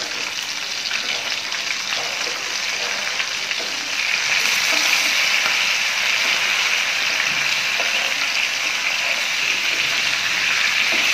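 Eggplant slices frying in oil in a pan for Bengali begun bhaja give off a steady, moderately loud sizzle throughout. The sizzle grows a little brighter and fuller partway through, and no voices are heard.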